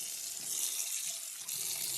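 Water from a tap runs in a steady, close hiss while cashmere is wetted for handwashing, with no voices over the flow.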